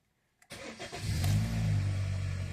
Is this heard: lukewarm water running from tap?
no